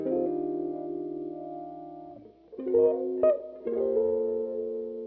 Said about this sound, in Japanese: 座った状態でワウが踏めちゃうんです